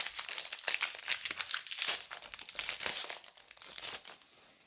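Foil wrapper of a Pokémon Evolving Skies booster pack crinkling and tearing open up close, a busy run of sharp crackles and rips lasting several seconds with no talking.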